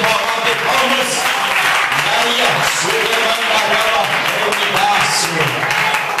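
A church congregation claps hands together in a dense, continuous burst of applause, loud and close throughout, with a voice speaking over it.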